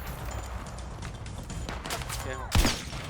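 Gunfire in the Battlefield 6 video game, a sharp close burst near the end standing out over a steady bed of distant battlefield noise.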